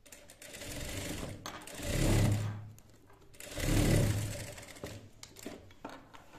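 A sewing machine runs straight stitching on a lined round-neck blouse, its motor whirring steadily nearby and swelling twice into faster, louder runs before easing off.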